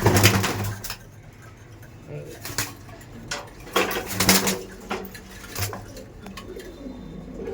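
Flying pigeons cooing at a pigeon sale in Thakurpukur, soft repeated coos with clattering and bustle mixed in, while people talk close by.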